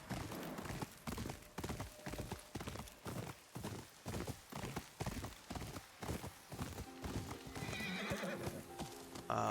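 Horse hooves gallop in a fast, steady clip-clop while riding through the video game Ghost of Yōtei, loud and close, with a brief whinny and no talk over the footfalls.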